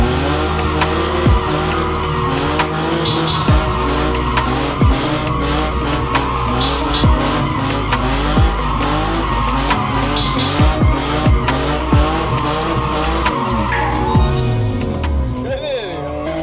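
Loud, continuous car engine with repeated sharp tire squeals as the vehicle spins in circles; voices are heard faintly underneath.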